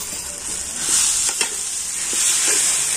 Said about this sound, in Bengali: তো সমস্ত মশলার সাথে আলুটা কিন্তু খুব ভালো করে নাড়াচাড়া করে নিয়েছি